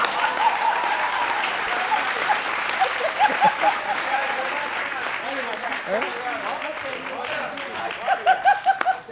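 An audience at a poetry recital claps in a sustained ripple of applause, with scattered chuckles and voices mixed in and a few sharper claps near the end.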